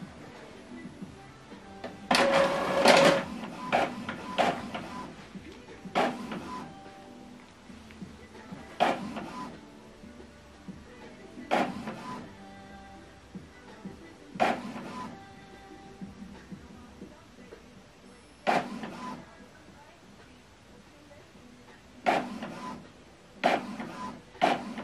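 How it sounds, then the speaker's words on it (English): An Epson printer runs a one-sided black print job with a sequence of short mechanical whirs and clunks at irregular intervals, close by, separated by quieter pauses. "we are printing it one-sided"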